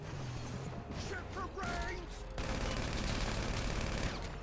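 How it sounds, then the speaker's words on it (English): Gunfire in a GTA video game plays under excited talk, with mechanical clicks and creaks early on, then a dense, continuous burst of rapid shots taking over for the last two seconds. "Oh, they're shooting me."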